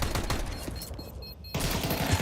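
Rapid gunfire from a professional Counter-Strike match crackles in dense bursts, falls away briefly, then resumes as a steady fusillade, with no talk.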